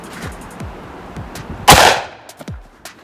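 A Desert Eagle .50 AE pistol fires a single loud, sharp shot at a wine bottle, standing out above quiet background ticks and soft thumps.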